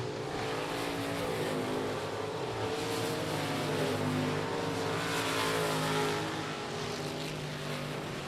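A race car engine lapping the I-37 Speedway track during a race, a sustained loud drone whose pitch rises and falls slightly as the car circles, continuous for the whole stretch with no talk.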